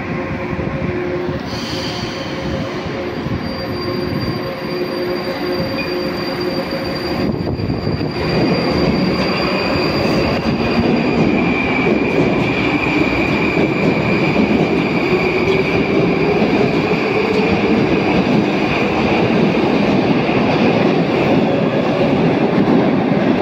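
A Moscow metro train of the Moskva 2024 model pulls away and picks up speed, its motor whine rising in pitch over a steady rumble and clatter of wheels, close and loud throughout.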